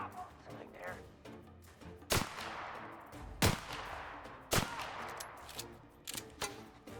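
Gunfire in The Outer Worlds video game: several sharp, loud shots spaced a second or so apart, with busier combat noise between them.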